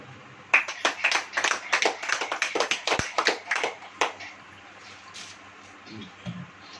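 A church congregation clapping hands together during a sermon, a burst of fairly loud, quick irregular claps lasting a few seconds before trailing off into a few scattered taps.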